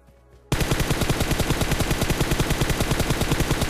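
Sustained automatic gunfire from a shooter video game bursts in after a quiet start, a loud, rapid, evenly spaced stream of shots that runs continuously with no talking over it.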